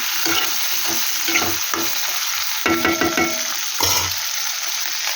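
Chicken liver fries with onions in hot oil, a steady loud sizzle broken by bursts of stirring and scraping in the pan, with no voices.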